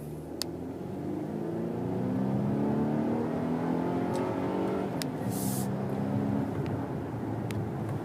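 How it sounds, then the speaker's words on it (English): A Volvo XC90 T5 AWD engine revs upward under steady acceleration, then drops in pitch as the gear changes, continuing with a throaty growl, heard from inside the car. "So you can actually hear the shift. Sounds very sporty, it's very throaty."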